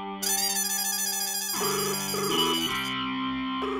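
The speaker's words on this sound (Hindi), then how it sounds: "अरे फोन क्यों नहीं उठा रहा है?" A synthesized phone ringtone plays alone, loud and electronic, its melody shifting pitch midway and repeating without pause.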